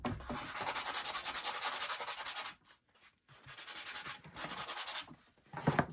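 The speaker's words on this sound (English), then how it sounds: "just slightly sand over this" Light hand sanding across a wooden porch sign, steady rhythmic rubbing strokes close by, pausing briefly partway through and then resuming in quicker bursts.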